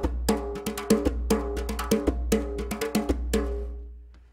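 A djembe is played fast with both hands on both rims, giving a quick, driving pattern of sharp slaps and deeper tones under a steady low rumble, close and fading out at the end.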